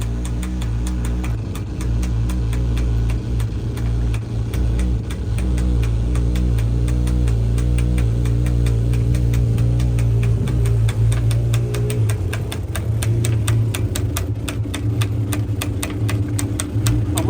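A truck engine idles steadily at a saltwater boat ramp, a continuous low rumble with a mechanical knock running through it, close by and unbroken for the whole stretch.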